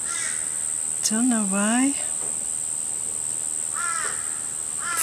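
Crows cawing in a garden, two separate harsh calls heard at moderate distance over a steady high insect-like drone, with a person speaking briefly between them.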